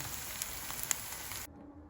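Vegetable fritters sizzling in a frying pan, a steady crackling hiss with small pops, fairly quiet, cutting off near the end to near silence.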